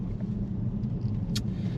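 A Ford Focus RS on freshly fitted tyres pulls away from a tyre shop, a steady low engine rumble with road noise, fairly close and without talk.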